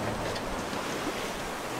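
Steady roar of wind and rushing, building waves on the open ocean between Hawaii and Alaska, heard from a sailboat in thick fog; a constant broadband wash with no voices.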